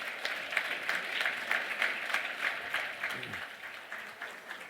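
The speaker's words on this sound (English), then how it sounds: "Let's have a round of applause." Audience at the 2016 Borlaug Dialogue symposium applauds the panelists, a sustained, even roar of many people clapping in a large room, continuing steadily for several seconds with a faint voice briefly underneath.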